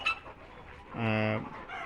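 A single drawn-out cluck from a four-and-a-half-month-old Tiger breed hen, close and fairly loud, rising out of quiet background noise for about half a second.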